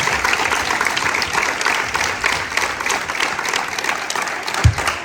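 An audience applauds the impressions at a basketball all-star game event, a dense, steady round of clapping lasting throughout, with one sharp louder clap near the end.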